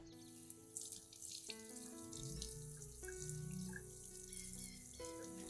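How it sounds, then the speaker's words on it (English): Plant roots are rinsed under a running tap, a steady stream of water splashing and trickling continuously throughout, close and moderately loud with shifting tone as the roots move in the flow. "gently rinse the entire root system under clean running water"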